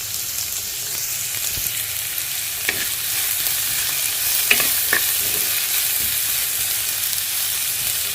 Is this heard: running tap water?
no